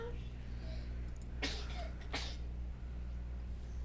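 Two quick sneezes, close and moderately loud, over a steady low background hum from the Xenonauts strategy game.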